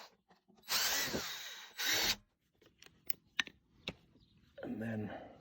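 A power drill whirs in two short bursts drilling holes in a blue plastic barrel, followed by scattered clicks and taps, then another brief drilling burst at the end.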